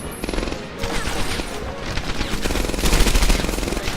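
Sustained automatic machine gun fire in the WWII shooter Medal of Honor: Airborne, dense rapid bursts rattling continuously and loudly with heavy low-end booms throughout, with no talk.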